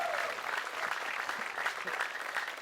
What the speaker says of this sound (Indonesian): Tepuk tangan buat Hilal.